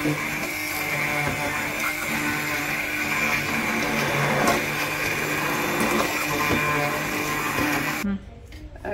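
Blender puréeing lentil soup, a loud steady motor whir that runs continuously and cuts off abruptly near the end.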